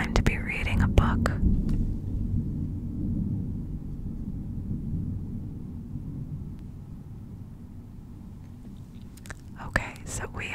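Low rumbling thunder from a thunderstorm rolls on for several seconds behind soft whispering, which comes at the start and end.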